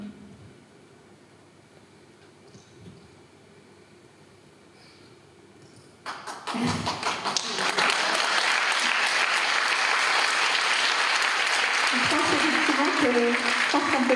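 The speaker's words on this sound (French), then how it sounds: "je pense qu'on peut les applaudir bien fort" A quiet room with faint murmuring gives way partway through to an audience at a closing evening for a culture and mental health project bursting into loud, sustained applause that swells and then holds strong to the end.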